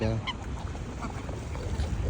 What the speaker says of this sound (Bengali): কত সবের হাঁস।